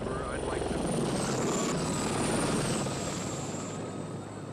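Blue Thunder helicopter from the film flying in, a loud continuous rotor and turbine roar with a high engine whine, swelling slightly as it nears.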